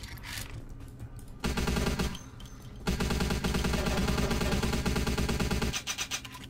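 Rapid automatic gunfire in the video game Vampire The Masquerade - Bloodlines rattles in sustained bursts, loud and dense, briefly pausing before resuming.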